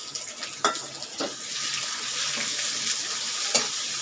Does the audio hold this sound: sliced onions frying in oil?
yes